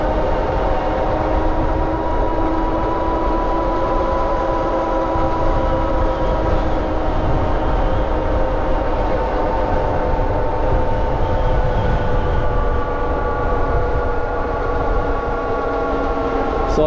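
A 72V BBSHD mid-drive electric bike motor runs hard in second gear, giving a loud, steady whine with layered tonal hums over constant rumbling road and wind noise.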